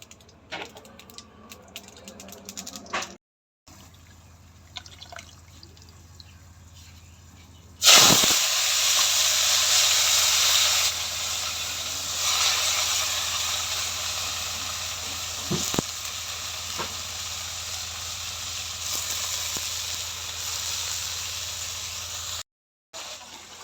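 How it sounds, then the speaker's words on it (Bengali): Nigella seeds sizzle in hot oil in a wok, with a quiet lead-in and then a loud, steady hiss that starts abruptly and keeps crackling for over fifteen seconds. "কড়াইতে তেল দিয়ে দিচ্ছি, এবার কালি জিরা দিয়ে দেবো সোমবারে।"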